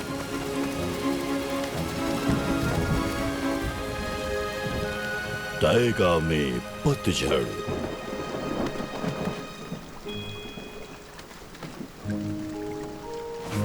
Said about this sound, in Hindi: अरे नहीं, बारिश होने वाली है।